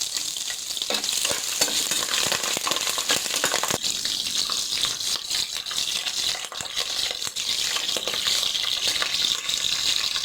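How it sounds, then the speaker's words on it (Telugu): Carrot pieces frying in a pan with spices, bay leaf, cumin and green chillies for chana biryani, a loud continuous hissing sizzle with scraping stirs and clinks running throughout, close up and with no talking. "ఈ విధంగానే ఇప్పుడు ఒకసారి కలుపుకొని ఫ్రై చేసుకున్నామండి"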